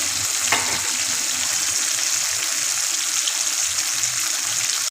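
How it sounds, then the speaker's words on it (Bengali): Steady, dense sizzle of catla fish frying lightly in oil, continuous and fairly loud throughout, with a brief soft clink near the start. "হালকা করে মাছটা একটু ভেজে নেব কাতলা মাছ তো বেশি ভাজবো না"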